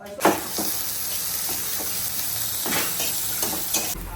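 Boiled potatoes frying in a pan for chire poha, a continuous sizzle broken by several sharp scraping stirs of a spatula, close and fairly loud, with no talking.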